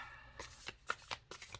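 Thick matte cardstock oracle cards shuffled lengthwise, several quick riffling bursts of papery flicks close by at low volume, with no talking.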